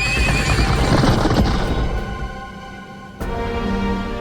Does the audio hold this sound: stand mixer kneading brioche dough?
no